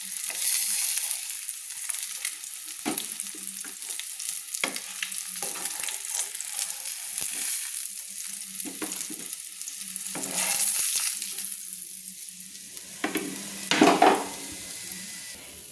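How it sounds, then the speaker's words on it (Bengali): Pieces of katla fish fry in hot oil in a kadai, giving a continuous close sizzle broken by scrapes and clinks of a metal spatula, with a louder clatter near the end. "খুন্তি দিয়ে আমি ভেজে রাখা মাছগুলো কিন্তু তুলে নিচ্ছি একটা প্লেটে।"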